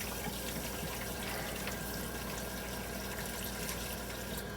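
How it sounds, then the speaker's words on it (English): Hot water runs steadily from a kitchen sink tap into a plugged sink, a constant close rushing stream with no talk. "Start your hot water, plug your sink."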